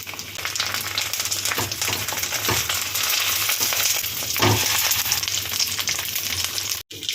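Katla fish pieces fry in hot oil in a loud, continuous crackling sizzle with a few bursts of spatter, close-up, with one abrupt brief dropout near the end and no talking.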